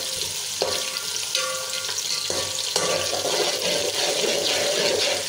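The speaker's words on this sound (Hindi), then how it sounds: "घी हमारा काफ़ी गर्म है, तो ये प्याज जो है वो बड़ी जल्दी से हमारा जो है वो बन जाएगा।" Onions fry in very hot ghee for chicken yakhni pulao, a dense bubbling sizzle with a few sharp clinks and scrapes of a utensil against the pot, close and continuous without speech.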